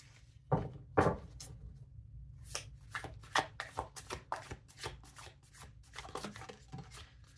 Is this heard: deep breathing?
no